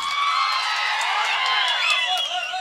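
Crowd at a village Valli Thirumanam drama performance near Sivaganga claps and cheers, with whoops and whistles riding over dense continuous noise.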